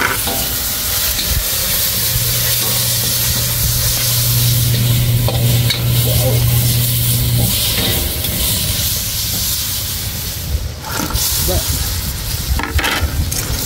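Chili peppers and vegetables sautéing with garlic in a hot pan, a loud, steady sizzle and hiss with repeated scrapes of a stirring utensil, close and continuous.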